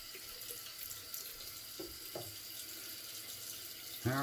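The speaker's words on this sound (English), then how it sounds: "Just rinsing out the bowl here, real quick." Water running steadily from a tap into a sink while a shaving bowl is rinsed, a close constant hiss with a few faint knocks and a brief louder splash at the end.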